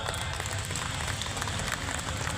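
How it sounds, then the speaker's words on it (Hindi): A crowd at a live Garhwali stage show applauds loudly, producing a dense, continuous wash of clapping that holds steady throughout. "और एक बार जोरदार ताली"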